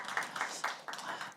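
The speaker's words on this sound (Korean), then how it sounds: "여러분 크게 한번 박수해 주시기 바랍니다." A church congregation applauds finalists at a Bible recitation contest, a short burst of scattered clapping with several uneven swells, fairly quiet and with no talk over it.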